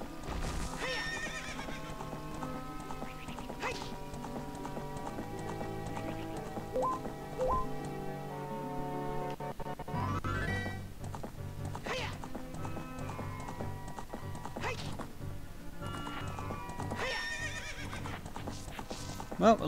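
A horse in The Legend of Zelda: Ocarina of Time neighs and whinnies over hooves clip-clopping, set against steady background music with a few sharp effects.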